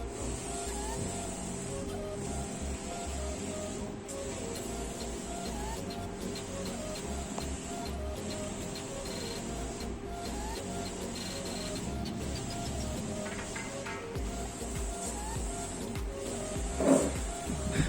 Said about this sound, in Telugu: స్టార్ ఫ్లెక్స్ క్వాలిటీ బాగా రావాలి కాబట్టి స్లోగా ప్రింట్ అనేది వస్తుంది